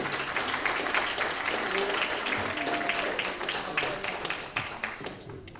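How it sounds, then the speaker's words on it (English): Audience at a community workshop on deep sea mining claps to welcome two speakers to the stage, a lively, moderately loud round of individual claps that thins out toward the end. "Let's give them a round of applause."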